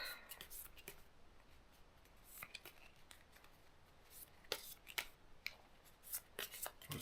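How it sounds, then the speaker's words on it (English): Quiet, close riffling and snapping of cards, irregular crisp clicks and flutters that build into a quicker burst of shuffling toward the end. "So I'm going to go ahead and shuffle the cards"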